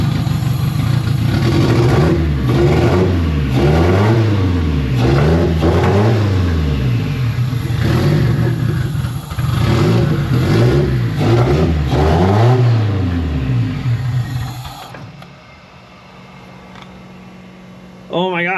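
A turbo-swapped project car pulls hard through repeated rising and falling revs, the engine note swelling and dropping in loud waves before easing off near the end, with a faint hiss on top.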